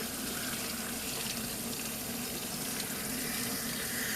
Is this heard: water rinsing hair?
yes